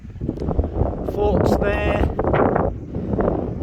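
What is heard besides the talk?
strong wind blowing on top of a fort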